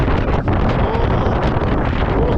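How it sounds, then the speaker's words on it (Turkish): Strong gusting wind atop a 230-metre tower roars and buffets the microphone continuously, loud and close, with no voices. "Rüzgar çok sert yani çok sert"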